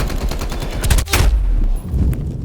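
Rapid gunfire from the video game Black Ops Cold War, a dense close burst of loud cracking shots with a brief pause and then more firing, no talking.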